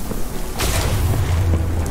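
A deep explosion of fireworks in Minecraft Dungeons booms with a bright crackling burst, followed by a sustained low rumble that continues to the end.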